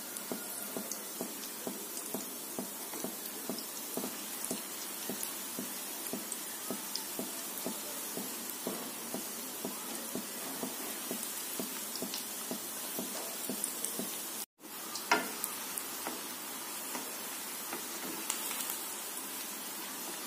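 Jackfruit koftas frying in hot oil over a medium gas flame, a steady crackling sizzle with dense fine popping, continuous and fairly close, with no talk.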